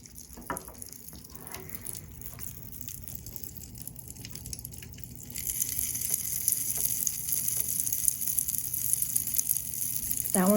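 Pop Rocks candy crackles and fizzes in lemon juice with a soft, continuous sizzling hiss that grows noticeably louder and brighter about halfway through.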